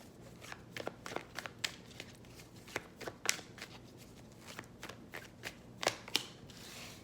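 Tarot cards are shuffled and drawn by hand, giving a run of quick, crisp riffling snaps and flicks at close range over a quiet room, with no talking.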